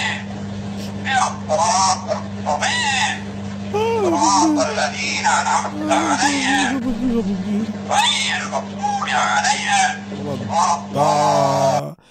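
A parrot gives a run of squawks, whistles and mimicking calls over a steady hum, with people talking and music-like sounds throughout.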